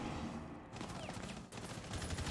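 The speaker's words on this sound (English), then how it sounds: "Oh my gosh, a lot of gunshots coming out." Rapid, dense gunfire from a Rainbow Six Siege match rattles almost continuously for two seconds, with bursts overlapping and staying loud throughout.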